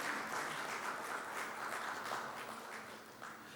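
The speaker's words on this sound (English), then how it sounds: "A big round of applause for our chief guest." An audience applauds the chief guest at a leadership talk, a dense, even wash of clapping heard from a distance, quiet and sustained for the whole stretch with no voices over it.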